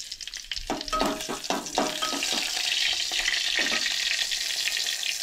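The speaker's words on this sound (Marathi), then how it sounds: "त्याच्या उपरांत करपील ॲड केला म्हणजे कढीपत्ता" Curry leaves hit a small amount of hot tempering oil for a Goan sprouted moong curry, bursting into a sharp crackling spatter that settles into a steady close sizzle, with no voices.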